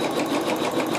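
A sewing machine quilting fabric stitches in a rapid, even needle rhythm, close by and alone for a brief moment.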